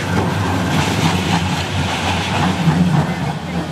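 A tram runs through town in a video game, a loud continuous rumbling rail drone with low grinding undertones holding steady throughout.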